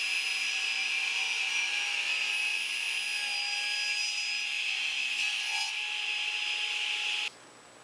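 A saw cuts a miter through wooden trim in a steady, continuous, fairly loud stroke that stops abruptly near the end, with no talk.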